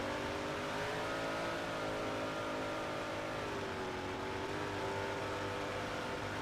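358 modified race cars storming down the back straightaway at Volusia dirt track, a steady, fairly faint engine roar with rising and falling revving tones blended from several cars, continuous with no clear gaps.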